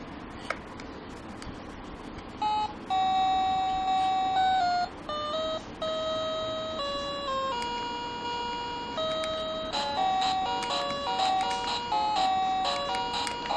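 Devil Rider game on a retro mini arcade handheld player, bright electronic beeping tones in a stepping melody with short note changes and chirps, moderately loud over a quiet hiss.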